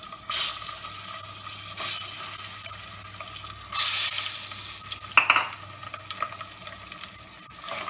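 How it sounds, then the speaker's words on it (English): Eggs frying in a masala of chili and turmeric powders over a medium flame, a broad sizzle with bursts of louder hissing and a short clatter of stirring partway through. "Once the powders are slightly fried, add in the eggs."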